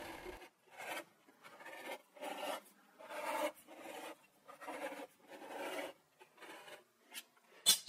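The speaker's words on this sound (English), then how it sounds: "now I can scribe around the outside edge of this" A tool scribes a line around the outside edge of a part, giving soft scratchy strokes in a steady rhythm of short bursts with brief gaps, quiet and close.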